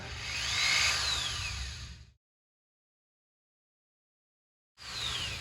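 A power drill whines as it bores into a wooden shotgun butt stock for about two seconds, stops, then starts up again briefly near the end.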